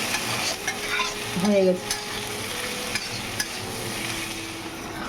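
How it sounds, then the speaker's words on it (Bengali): Chickpeas and potatoes for ghugni being stirred and fried in a pan, a steady sizzle with scraping spoon strokes throughout, plus a brief clatter midway and a short spoken phrase. "এখানে ছোলা আলু ঘুগনিটা করছি, মানে ছোলা আলু ভাজা"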